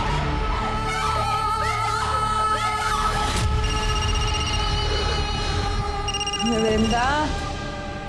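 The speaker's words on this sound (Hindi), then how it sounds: "देख क्यों नहीं रही किसका फोन है? कब से बजे जा रहा है, उठाना।" A telephone rings repeatedly in a steady electronic pattern while people talk over it, with background music and clatter.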